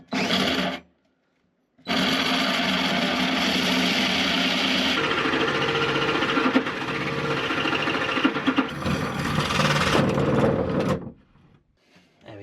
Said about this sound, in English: the next job to do is to drill a large hole in Florence's bulkhead